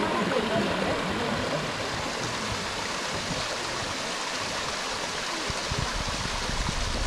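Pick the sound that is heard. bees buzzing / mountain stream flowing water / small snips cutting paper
mountain stream flowing water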